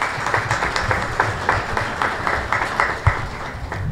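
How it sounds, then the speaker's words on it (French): An audience at a gathering claps for an aunt in a steady, rhythmic beat, a dense run of even handclaps at close range with no talking over it. "on applaudit la tante"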